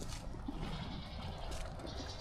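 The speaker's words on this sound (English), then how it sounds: "My goats are hungry. I don't know if you hear them in the background." Hungry farm goats bleat in a steady, busy chorus over a dense wash of barnyard noise, with occasional louder calls rising above it and no talking.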